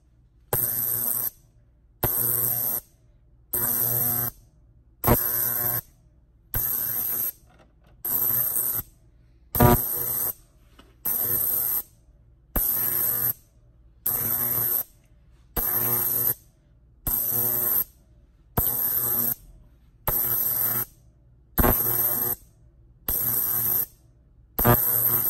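A Hornady Lock-n-Load 2L ultrasonic cleaner runs its degas cycle, giving a steady series of regular buzzing pulses, each about a second long with short gaps between, loud and close with no voices.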